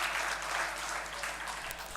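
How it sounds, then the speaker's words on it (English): A crowd at a Dayananda Sagar University program claps for the faculty and students involved; even, moderately quiet applause that slowly tapers off, with no voices over it. "big round of applause to the faculty, the students who have been part of this program"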